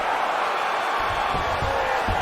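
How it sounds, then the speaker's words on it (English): Crowd in a PS5 UFC video game giving a big cheer as fighters get back to their feet, a broad sustained roar with thumping low bursts, under commentary. "huge pop from the crowd as the fighters get back up to their feet"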